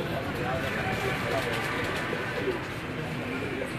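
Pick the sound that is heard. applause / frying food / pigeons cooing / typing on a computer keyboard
pigeons cooing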